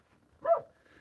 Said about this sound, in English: Sounds like your dog is getting in trouble.